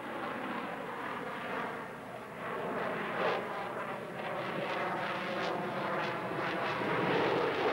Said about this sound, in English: Pugachev hung onto the power of his twin Tumansky turbofans to force the aircraft into a staggeringly impressive series of turns and loops